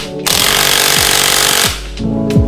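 Loud pneumatic impact wrench hammering continuously while tightening the CVT assembly on a Honda Click 125 scooter after a spring change, running steadily for over a second before stopping, then a shorter burst.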